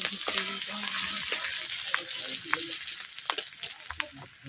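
Ginger fries in oil in a pan for katla fish kalia, making a moderate, steady sizzle broken by scattered light crackles and spoon taps.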